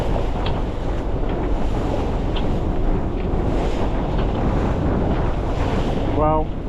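Strong wind and surging waves rush steadily around a sailboat in the Solent, with swell and wind over tide in 25-knot gusts, a constant loud roar buffeting the microphone throughout.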